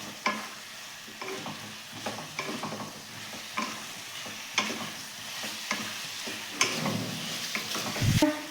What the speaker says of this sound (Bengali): সেগুলোর খোসা ছাড়িয়ে নিয়ে এই মশলার সাথে মিশিয়ে নেব